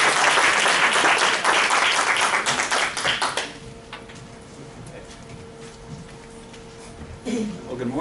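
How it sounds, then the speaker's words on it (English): Audience round of applause at a fundraising academy event, dense clapping for about three seconds that then fades out, followed by quieter room sound and speech. "All right, round of applause."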